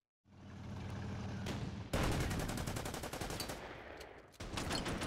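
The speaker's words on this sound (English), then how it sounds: "we'll bombard them with artillery" An artillery bombardment in the Order of Battle strategy game, with a low rumble that gives way to dense, rapid volleys of firing, loud and continuous, with a fresh barrage near the end.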